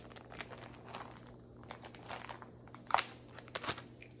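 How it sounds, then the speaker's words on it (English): Yellow latex gloves come out of their plastic packaging with soft, close crinkling and rustling, including one sharper crackle partway through, quiet and with no voices. "Let's unzip it."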